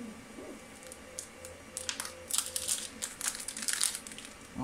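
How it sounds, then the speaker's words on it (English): A small piece of plastic bag is crinkled by hand, with soft sporadic rustles building into denser crackling bursts, close and fairly quiet with no voices. "A little bit of plastic bag. That'll do."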